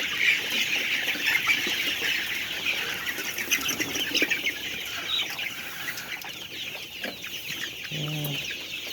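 Young pullets cluck continuously in a farm shed, a dense chorus of hens with occasional wing flaps heard close and steady throughout.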